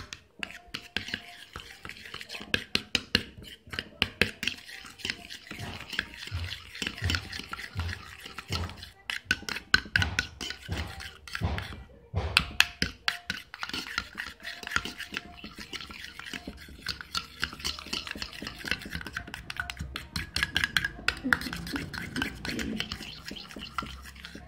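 Milk cream face remedy being mixed in a small bowl: rapid, close scraping and stirring strokes in a busy rhythm, soft and continuous with slight tapping, no speech.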